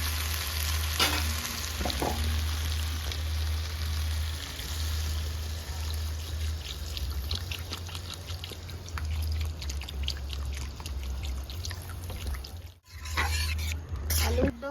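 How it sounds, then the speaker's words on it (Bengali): Water is poured into a village-style black carp curry with potato and papaya frying in a pan, and the curry is stirred, giving a loud steady sizzle and bubbling with a low hum and brief scraping. "ভালো করে এবার জল দিয়ে দেবো"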